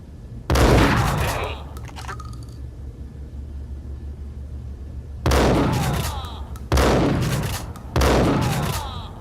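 Heavy gunshots in a Max Payne game, loud and booming, one blast early, then three more in close succession with ringing decays over a low rumble.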